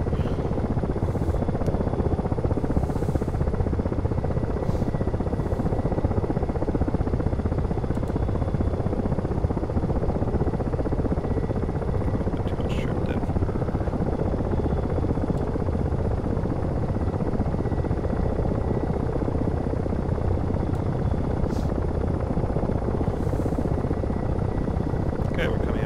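Ka-50 helicopter in a flight simulator game, a loud constant rotor and engine drone that runs unbroken throughout, with a few faint clicks over it.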